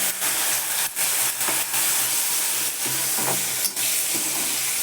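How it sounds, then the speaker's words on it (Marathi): Cluster beans (guar) frying in hot oil, a loud dense crackling sizzle that holds steady, broken by a few stirring scrapes and clinks, heard up close. "हळूहळू गवार तळायला लागते पण हलवत राहायचं सारखं"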